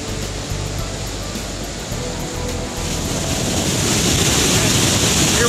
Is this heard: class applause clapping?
no